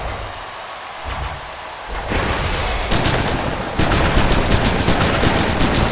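Gunfire in the Mutant Football League video game crackles in rapid repeated bursts over a noisy game mix, growing louder and denser toward the end.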